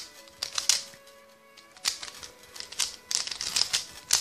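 A 3x3 Rubik's cube is twisted and scrambled by hand, producing quick bursts of plastic clicking and rattling turns separated by short pauses, close and fairly quiet.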